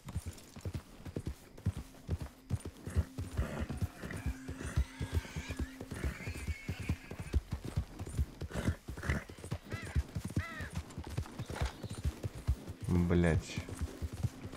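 Horse hooves clip-clopping in Red Dead Redemption 2, a brisk run of close hoofbeats with occasional whinnies and snorts, while someone talks over the game sounds.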